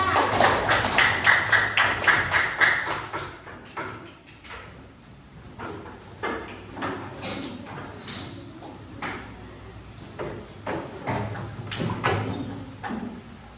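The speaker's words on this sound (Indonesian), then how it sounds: "Tepuk tangan untuk kelompok 5." A burst of rhythmic group clapping by a fourth-grade class, loud at first, then fading into scattered claps and thumps.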